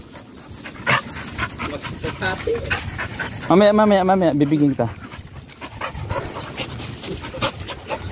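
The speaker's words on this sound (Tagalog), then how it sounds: "Ayun guys, nakikipaglaro yung aso." A playful dog pants and snuffles close by, letting out a long whining vocalization in the middle, while a person talks over it.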